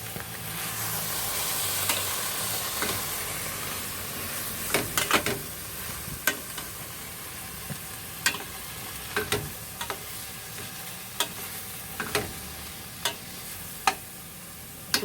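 Kangkong and mixed vegetables stirred in a hot pan, a steady sizzle beneath repeated sharp scrapes and clacks of the utensil against the pan, close up and without talk.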